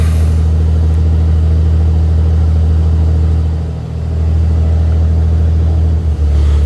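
A light aircraft engine drones loudly and steadily through a ground run-up, holding a strong low hum and briefly dipping once before settling back.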